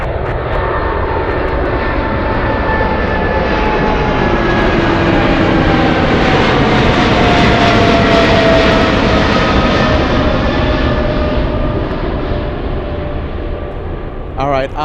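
Loud, continuous jet engine roar from heavy aircraft at Anchorage airport, a sustained broad rumble with shifting whining tones that swells toward the middle and eases off slightly near the end.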